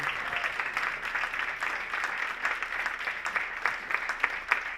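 An audience applauds a presenter at an Ignite Talks event, with steady, dense clapping from a crowd that holds even for several seconds.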